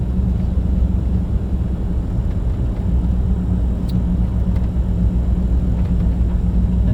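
A 1995 Chevrolet 2500 pickup with 67,000 original miles cruising along, a steady low engine and road rumble heard from inside the cab, constant and fairly loud with no speech.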